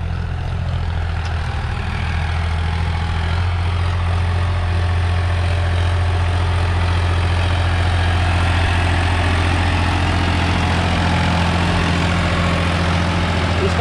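A Preet 955 tractor pulling an 8x8 harrow runs with a loud, steady diesel drone and a deep low hum throughout, close by and unbroken, with no voices over it.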